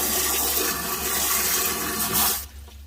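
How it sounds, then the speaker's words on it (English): Hose water spraying over a Mercury 600 outboard boat engine, a steady close hiss and splatter of water that runs for over two seconds, then cuts off abruptly, leaving a quieter trickle. "Get our hose off here. Get everything all wet."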